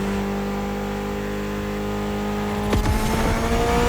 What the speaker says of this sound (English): Mitsubishi gave us a nice inline four-cylinder with already 280 horsepower.